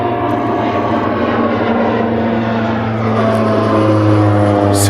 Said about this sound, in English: You might hear a plane above my head.